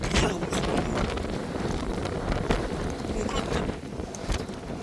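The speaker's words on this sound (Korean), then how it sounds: "바람 이 너무 많이 부는데 어떻게 가지?" Strong Antarctic wind buffets the microphone in loud, continuous gusts with rough, roaring turbulence that swells and eases slightly throughout.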